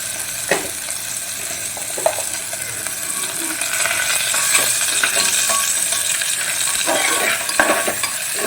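Whole cardamom pods, cloves and cinnamon being stirred in a hot pan with oil for a goat meat curry, a steady sizzle under repeated scraping and clinking strokes, close and fairly loud, no voices.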